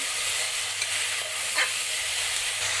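A quarter kilo each of eggplant and potatoes fry in a pan for a Rayalaseema-style aloo vankaya karam. A steady, close sizzle continues with occasional stirring scrapes.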